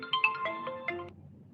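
A phone rings from an unknown number, a short bright electronic ringtone melody of quick tones that stops abruptly after about a second, heard alone.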